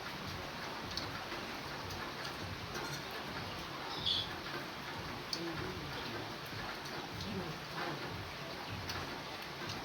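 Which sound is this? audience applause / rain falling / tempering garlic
rain falling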